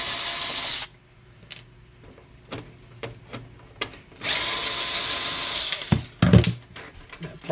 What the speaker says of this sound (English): we're going to remove the two screws right here